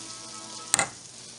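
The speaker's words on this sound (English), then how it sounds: "And it's really sizzling." Soft steady sizzling of rice flour sourdough pancake batter frying in a hot pan, with a brief sharp crackle partway through, close and fairly quiet.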